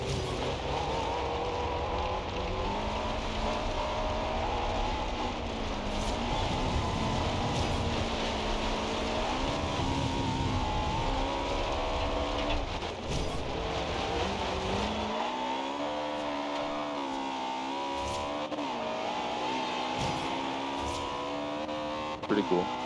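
A yellow Ferrari in Forza Horizon 2, heard from the interior: a steady, prominent engine drone that rises and falls in pitch through revs and gear changes, running continuously.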